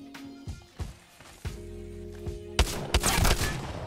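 An Eva 8 auto shotgun fires in Apex Legends, giving several sharp, booming shots at an uneven rhythm as the trigger is held, with a faster cluster of blasts toward the end.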